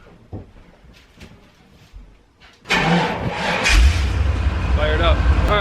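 A supercharged GMC engine is started after a few faint clicks and rustles, catching abruptly with a loud crank and rising into a rough, rumbling idle close by.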